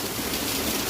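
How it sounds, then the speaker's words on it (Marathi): Heavy unseasonal rain pouring down near a petrol pump in Konkan, a dense, continuous hiss of rainfall filling the space at a steady, loud level with no voices. "आजूबाजूचे संपूर्ण एरियामध्ये असंच पाऊस पडतोय"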